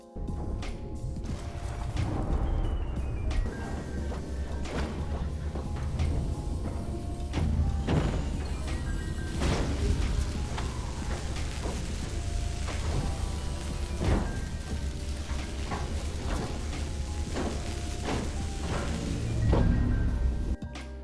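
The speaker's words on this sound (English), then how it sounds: "The sounds you just heard was a pad being deleted and an expansion built" Halo Wars real-time strategy game audio of a build pad being deleted and an expansion constructed: a dense, continuous bed of mechanical thuds, clanks and construction noises with a low rumble, steady and moderately loud throughout, no talking.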